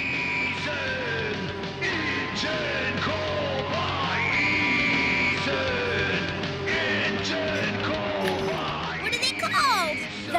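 Hardcore punk from a cartoon, with shouted, throat-tearing vocals over loud, dense distorted instruments that stay steady throughout, ending in a burst of yelling.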